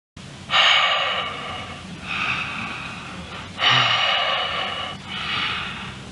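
Heavy, raspy breathing of the Shizu monster in Roblox The Mimic, four slow breaths alternating in and out, close and eerie with nothing else audible.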